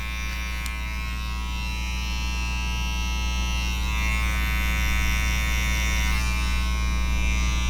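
Electric hair clippers run continuously while cutting a fade with no guards using clip-over-comb blending, a close, steady buzzing drone that holds even throughout with no talking.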